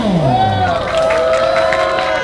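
A crowd at an outdoor street basketball event on a rainy day in Sinchon cheers and claps for a player, with loud whoops and shouts over steady clapping.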